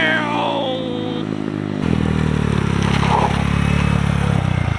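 A Honda Grom MSX125 motorcycle passes by loud and close, its small engine droning and then surging louder as it goes past.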